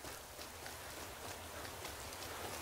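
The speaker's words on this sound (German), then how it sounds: "Es regnet." Steady rain falls in the video game Skyrim, a continuous soft hiss of drops and patter that stays even and fairly faint throughout, with no voices.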